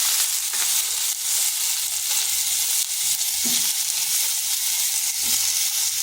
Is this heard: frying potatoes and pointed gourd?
yes